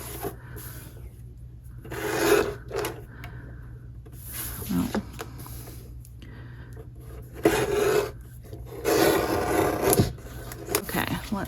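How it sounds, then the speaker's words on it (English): Material is trimmed off both sides with a rough rasping, rubbing action, heard as several short scraping bursts separated by quieter pauses, close and moderately loud. "So I'm gonna trim just a little bit more off of both sides."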